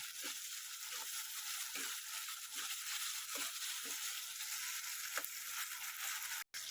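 Tomatoes with salt sizzle and fry steadily in a pan for a masoor pulao, a continuous close hiss with occasional soft scraping stirs and no voices.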